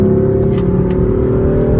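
A BMW F82 M4 pulls hard under acceleration, its engine a steady, loud, close drone with a sustained harmonic tone and no talk over it.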